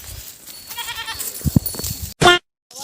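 Goats bleating nearby: a few quavering, wavering calls, one longer and one short and loud near the end, over quiet background noise with brief silent gaps.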